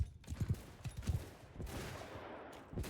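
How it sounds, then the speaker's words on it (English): Gunners and archers firing in a battle in Mount and Blade 2 Bannerlord, a rapid ragged volley of muffled low thumps and cracks over a rumbling battlefield din, moderately distant and fairly quiet. "Our gunners and bows opening up there very beautifully"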